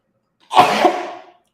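One sharp, close sneeze bursts out and trails off quickly against near silence.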